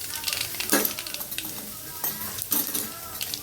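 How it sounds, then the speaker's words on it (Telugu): Mustard seeds hit hot oil and crackle in a close, busy sizzle, with a few sharp pops and a metallic clink of a spoon against the pan. "కొంచెం ఆవాలు వేస్తున్నా."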